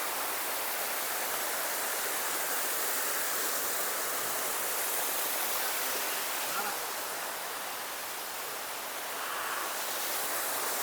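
Munjuluru waterfall pours steadily, a broad continuous rushing roar of falling water heard close by.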